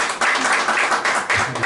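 Audience applause in a lecture hall, a brief dense patter of clapping that swells and fades over under two seconds.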